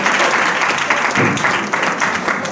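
A crowd applauds a woman at a celebration hosted by an MC, the clapping loud, dense and steady for the whole stretch.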